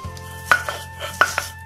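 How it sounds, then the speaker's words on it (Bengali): Dried fish being ground on a flat grinding stone, with a few close, dull knocks and scrapes of the stone over a faint background hum. No talking. "এবার আমরা শুটকিটাকে বেটে নিব"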